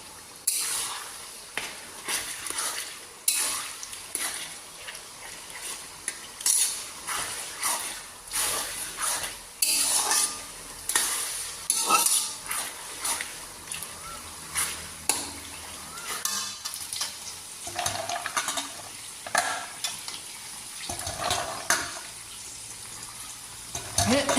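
Onions and garam masala frying in a pan for pulao in a home kitchen, a bursty, uneven sizzle with watery splashes and clatter, close by, with some voices faintly in the background.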